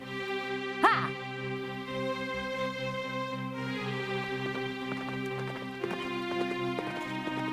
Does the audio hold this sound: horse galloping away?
yes